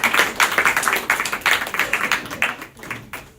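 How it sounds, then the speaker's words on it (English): Audience applause at a special programme on Ekadashi day: close, energetic clapping in quick uneven bursts that swell and fade for a few seconds, with no talking. "Let's give him a big round of applause."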